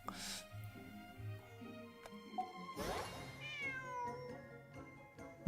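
A cat in the video game Genshin Impact meows twice, a short call followed by a longer rising and falling meow, close and clear against quiet game background sound.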